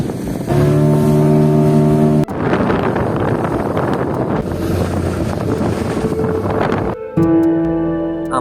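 A speedboat ride off Patenga sea beach: a loud, steady roar of engine and rushing wind buffets throughout, with brief tonal humming at the start and end.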